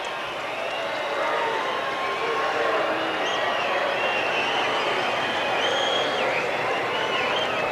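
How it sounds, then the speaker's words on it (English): A tennis crowd at Indian Wells in 1995, at a Becker–Agassi match, reacts loudly to a line call, producing a sustained roar of raised voices and jeers that swells and holds through the whole stretch. "the crowd seemed to agree vehemently with Becker"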